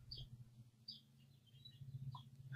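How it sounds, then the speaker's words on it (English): Birds chirp outside an open window in Utah. Several faint, scattered high chirps come over a steady low room hum, with no talk. "I'm hearing birds chirp in Utah."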